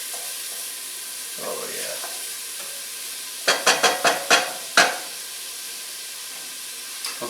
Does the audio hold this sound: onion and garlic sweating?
yes